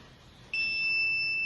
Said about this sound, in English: When we introduce a smoke element into this pipeline structure, it produces a beep sound.